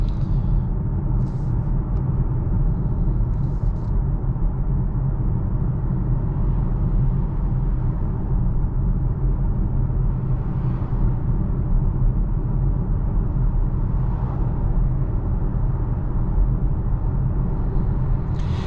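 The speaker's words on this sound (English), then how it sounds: "all you're focusing on is the tire and wind noise and things like that" Inside a 2022 Volvo C40 Recharge electric car on the road, a steady low roar of tire and wind noise fills the cabin evenly throughout, with no one talking.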